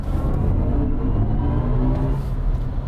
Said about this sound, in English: BMW has been piping in engine noise for a while